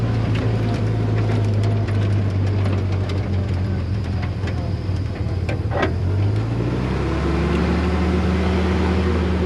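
A Jeep Willys engine runs again after 30 years of sitting, a loud steady low idle with a rough, uneven rumble that drops and shifts in pitch partway through, with no voices over it.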